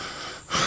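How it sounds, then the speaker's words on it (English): Heavy, labored breathing from a man walking outdoors on a very hot day, a short gasping exhale trailing off and then a louder, breathy rush of air close to the microphone. "Forgive my breathing, but it's powerful hot out here today."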